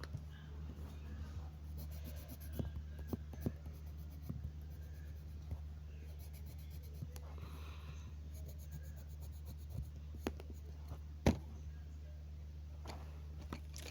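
Colored pens scratch and tap softly on paper while a Palestinian flag drawing is colored in. The close, faint, irregular strokes run throughout over a low steady hum, with one sharper tap near the end.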